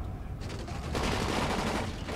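Gunfire in the zombie video game Dying Light, a dense burst of shots fired by several shooters at once, loud and continuous, climbing into heavier sustained fire in the second half.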